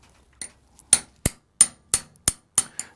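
Tapping a Fast Dot rear sight into a handgun slide's dovetail, about eight sharp metallic taps at a steady, slightly quickening rhythm, close and loud, with near silence between them.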